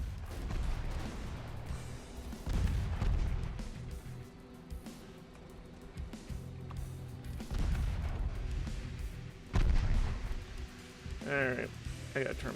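Naval artillery booms repeatedly in the warship game Ultimate Admirals: Dreadnoughts, with heavy irregular blasts and rumbling bursts at moderate loudness over a steady battle din, a voice occasionally audible.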